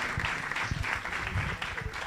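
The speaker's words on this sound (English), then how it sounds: "Another big round of applause for Mario, please." An audience applauds after a conference talk, with scattered claps over a soft crowd murmur at moderate, fairly faint level.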